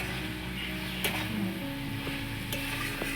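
Pui greens curry cooking in a pan, a continuous soft sizzle with a few sharp clinks of a utensil against the pan as it is stirred, close and even throughout.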